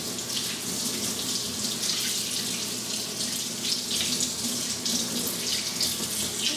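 Tap water running steadily into a sink while a makeup brush is rinsed under the stream, a close continuous splashing hiss with slight fluctuations and no talking.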